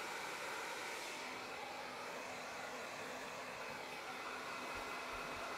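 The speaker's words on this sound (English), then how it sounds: "So I'm just going to rough dry my hair and then we'll start styling it." A hair dryer roars steadily and close while rough drying short hair, a continuous loud rushing whoosh of air with no talk over it.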